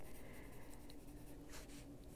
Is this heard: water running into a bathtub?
no